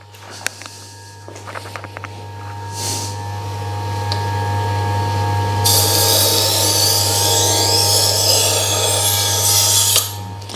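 A Kitchen Devils kitchen knife is sharpened on a motorized Tormek T1 sharpener. A high, steady mechanical whine hums throughout, with clicks at first, then a bright, louder grinding rasp as the blade is drawn through.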